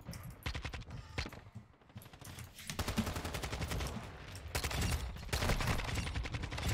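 A Kastov 74u SMG fires in Modern Warfare 2, with repeated full-auto bursts of rapid, sharp shots. The bursts are broken by brief gaps and come close and steady toward the end.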